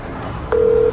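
A single telephone keypad tone, a short steady beep of under half a second, as a call is being dialed over a hissy background.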